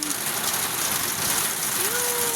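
Steady heavy rain on a rainy afternoon, a dense continuous wash of falling water filling the scene at close range with no pauses, heard alone without voices.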